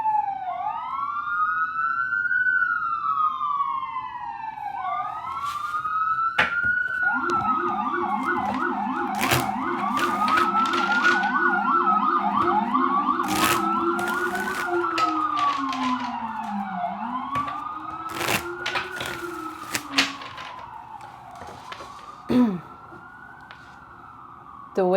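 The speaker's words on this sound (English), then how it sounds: "I think the sirens here are so fitting." Sirens wail continuously, with several overlapping rising and falling tones layered together, loud and fairly close, with occasional sharp clicks and taps among them.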